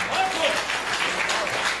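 Audience applause in a hall at a Hindi poetry recitation about mothers, a steady wash of clapping across the whole moment with no pause.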